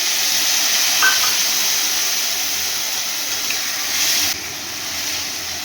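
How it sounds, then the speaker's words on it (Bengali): Spiced water poured into hot oil with fish in a pan, tomato ketchup already added, giving a steady loud sizzling hiss that holds for several seconds and eases slightly near the end, with no talking. "আর এখানে দেখো মশলা যে জলটা ছিল দিয়ে দিচ্ছি আমি।"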